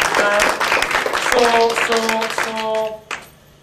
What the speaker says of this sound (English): Give her a round of applause for playing that.